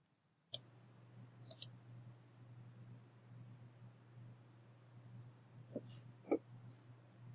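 A computer mouse gives a few sharp, close clicks, a single one followed by a quick double click and a couple of softer clicks later, over faint steady hum without talking.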